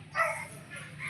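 A dog gives a short, close bark or yip that peaks early, then fades into low background rumble, with no talking over it.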